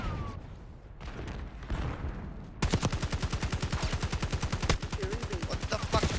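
Video game combat erupts with a concussion grenade and then a rapid, sustained burst of automatic gunfire, loud, evenly spaced shots rattling for several seconds after a quieter opening.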